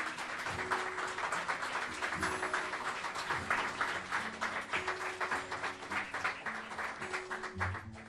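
A church congregation claps during a Spanish-language worship service, a dense and continuous round of applause with some rhythmic patting, moderately distant in a reverberant hall.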